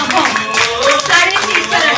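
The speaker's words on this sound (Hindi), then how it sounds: "चौधरी सर स्टेज पर आए, उनके लिए जोरदार तालियां होनी चाहिए" Audience at a rank achiever celebration clapping as Chaudhary Sir comes onto the stage, a dense, loud burst of applause mixed with crowd voices throughout.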